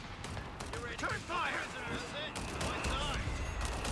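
Mortar and small-arms fire in the real-time strategy game Company of Heroes 3, with bursts and booms layered through a dense battle mix while a commentator's voice runs over much of it.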